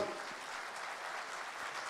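Spontaneous applause from a large audience at a public event, a dense steady wash of many hands clapping throughout, fairly distant and even in level, with no voices standing out.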